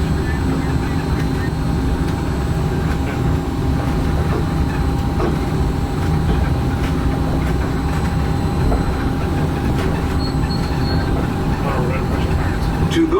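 Disneyland Monorail train running at the Disneyland Resort, a steady low rumble and hum of the moving car that continues without break, with faint announcement speech over it.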